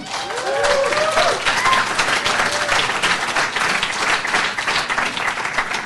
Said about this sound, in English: you can't see that that's clapping mostly from non-students